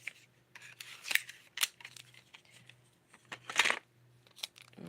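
Tape pulled from a roll and cut, heard as several short rasping rips and snips spaced irregularly, fairly close, with no talk over them.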